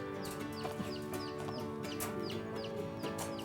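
A poultry chicken clucks repeatedly and agitatedly while being handled, close and fairly loud, its calls rising over a steady background hum.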